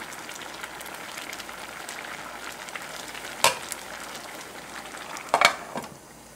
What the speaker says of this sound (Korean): 한 2, 3분만 더 끓여 보겠습니다.